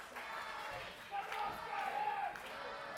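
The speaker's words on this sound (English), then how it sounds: "Listen to the crowd getting behind Scotty." A wrestling crowd in an arena roars behind Scotty Matthews, a muffled swelling of voices and shouts at moderate distance, rising in the middle with a brief whistle-like cry.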